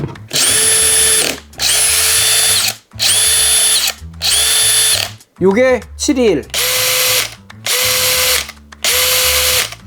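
A new Stanley cordless impact driver, around 2000 rpm, runs in repeated bursts of about a second each, whining loudly with short pauses between, and a brief spoken phrase midway.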